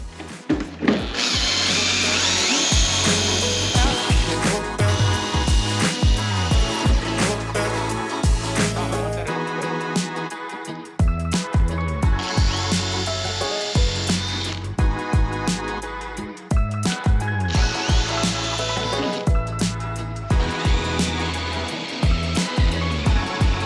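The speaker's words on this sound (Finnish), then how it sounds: "Porahtaa ja sitten testataan." A power drill whines loudly in several long bursts while drilling holes to fit a snorkel on a Toyota Land Cruiser HJ80/FJ80, stopping and restarting with short pauses between runs, close up.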